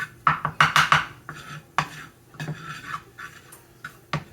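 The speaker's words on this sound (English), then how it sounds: "I'm going to keep moving my flour around" A utensil stirs flour and melting butter in a pot for a hamburger pot pie, giving a quick run of close metallic scrapes and clinks followed by slower, sparser knocks against the pot.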